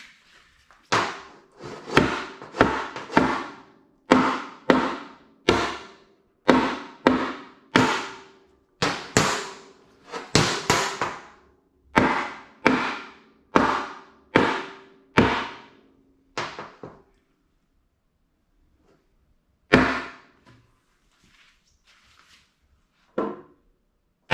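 A hammer strikes wooden boards for laundry room shelving repeatedly in a steady rhythm of sharp, loud knocks, pausing briefly, then a few final isolated blows after a gap.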